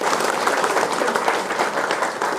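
Dense applause from attendees at the inauguration of a Dhaka South City Corporation cleanliness and mosquito-control workshop, a steady wash of many hands clapping at once without pause.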